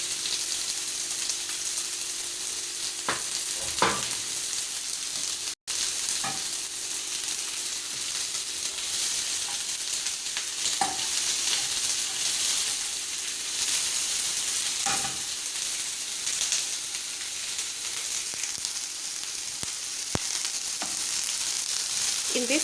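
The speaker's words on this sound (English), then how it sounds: "In this case, you have to really cook your onions in low heat." Onions frying over low heat in a pan for caramelized onion hotdogs, a steady soft sizzle with occasional spatula clicks and stirs, close and without talk.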